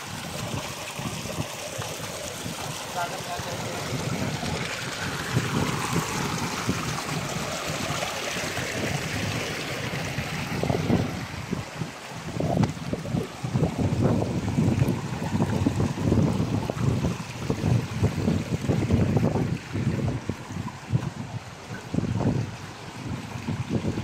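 Strong river water rushes and gurgles steadily through a gold-panning area in Agusan, a constant close wash with wind buffeting the microphone and splashy bursts in the second half.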